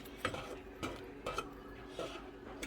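A spoon scrapes and clinks against the inside of a pot while sugar syrup for sponge candy is stirred, giving several distinct knocks at a steady, unhurried rhythm over a faint background hum.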